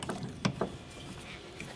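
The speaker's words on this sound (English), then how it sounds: "Just put it in your vise, clamp it down real tight" Jeep Cherokee door hinge clamped in a vise, a few quick close metallic clicks and ratcheting knocks in the first moments, then quiet.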